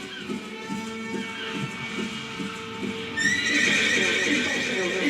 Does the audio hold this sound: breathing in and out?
no